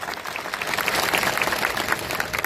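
A crowd at a village public meeting in Chikda applauds the sarpanches with loud, continuous, dense clapping throughout.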